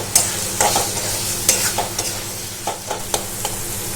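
Masala spices for an Odia prawn curry fry in a pan, with a steady crackling sizzle broken by a spoon stirring and scraping about once every half second, close and fairly loud, no voices.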